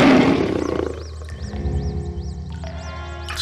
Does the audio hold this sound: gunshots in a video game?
no